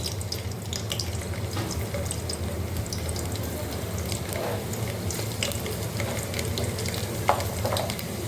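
Garlic dropped into hot oil in a cooking pot, giving a steady close crackling sizzle with faint scraping, alone without talk.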